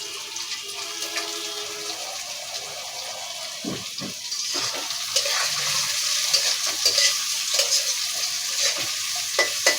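Restaurant-style fried rice with chopped carrot, onion and green chillies stirred in a frying pan, a soft sizzle under scraping and tapping of a spatula that grows busier.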